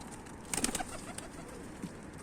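Young tumbler pigeons, including a white back-crested chick, cooing and calling in a loft: a brief cluster of close calls early on, then a faint later call over steady background noise.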